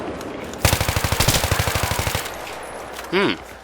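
Automatic rifle fire in the video game Battlefield 3, a rapid burst of about twenty close, punchy shots lasting over a second and a half, followed by a short electronic tone.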